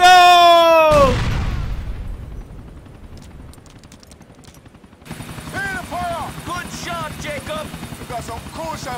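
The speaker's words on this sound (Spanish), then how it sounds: "¡Ahí está el helicóptero!" A helicopter in the video game GTA IV, its rotor chopping steadily through the game audio after a sharp burst of gunfire and an explosion, with a voice talking over it.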